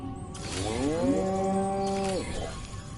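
A cow in the Destroy All Humans remastered video game gives one long, drawn-out moo that rises and then holds. The moo is close and clear against a faint background.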